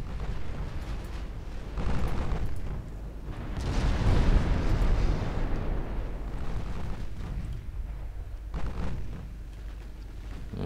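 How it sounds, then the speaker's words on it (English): Torpedoes slam into transport ships in the naval game Ultimate Admiral Dreadnoughts, a deep sustained rumble of explosions swelling and fading over several seconds, with a few sharper bursts. "my own torpedoes are actually hitting the transports"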